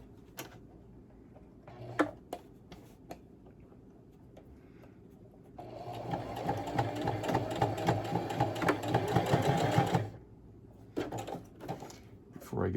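Domestic sewing machine stitching close to the edge of a fabric face mask, a steady rapid needle chatter running for several seconds mid-clip, framed by quieter handling clicks and fabric rustle before and after.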